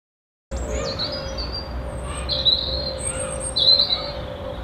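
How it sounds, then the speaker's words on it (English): Many birds squawk and chirp loudly outdoors in the evening, with repeated shrill calls rising over a steady background hum and distant ambient noise. "Birds are going crazy because it's getting later on."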